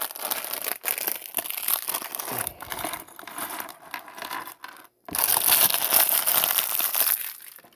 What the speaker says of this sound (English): our plastic bag ASMR.